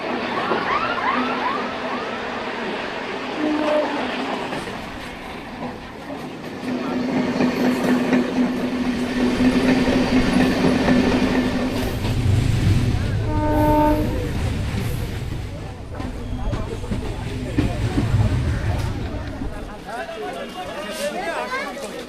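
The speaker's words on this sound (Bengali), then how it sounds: "ট্রেন ছেড়ে দিল লক্ষ্মীকান্তপুর থেকে নামখানার উদ্দেশ্যে" Crowded local passenger train running from Lakshmikantapur toward Namkhana, a steady low rumble and rattle of carriages with chatter from passengers throughout, broken by a brief horn-like tone midway.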